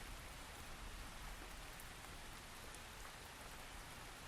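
Steady, even rain falls in a Halo Reach machinima scene, a constant hiss of drops with no pauses and no voices, heard at low level throughout.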